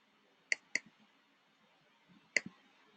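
A computer mouse clicks sharply during a lab session, two quick clicks close together, a pause, then another pair, near and clear against a quiet room.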